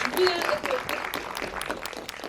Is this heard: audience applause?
yes